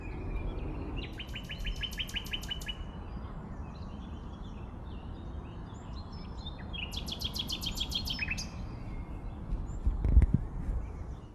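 A nightingale sings outdoors at a precious British breeding site, two bursts of rapid repeated whistled notes over a steady background rumble, with a brief thump near the end.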